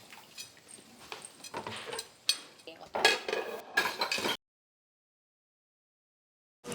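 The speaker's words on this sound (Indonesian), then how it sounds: "gue cuci piring" Dishes being washed by hand: plates, pots and cutlery clink and clatter in irregular bursts with running-water hiss, then stop abruptly into silence.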